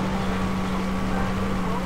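A vehicle engine drones in Far Cry 3, a steady, close hum with a sustained low tone and a constant rushing layer, unbroken for the whole moment.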